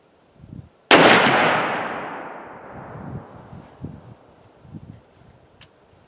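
A single loud, close gunshot from an S&S drilling rifle firing an 8x57JR round at 50 yards, a sharp crack followed by a long rolling echo and faint rustling afterwards.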